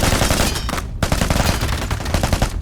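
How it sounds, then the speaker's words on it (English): Dense, rapid gunfire crackles almost nonstop in the video game Into the Radius 2, bursts of automatic shots layered over a loud, busy game soundscape with a brief dip near the middle. "as you can tell from the gunfire, I haven't done that completely"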